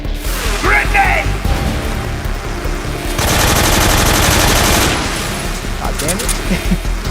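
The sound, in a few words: gunfire in the video game Metal Gear Solid 3 Snake Eater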